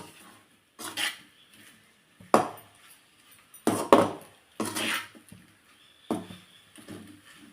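A taro root fry with chili powder is stirred in a pan, giving a series of separate scraping, clattering strokes of a utensil against metal, each lasting about half a second with quiet gaps between them.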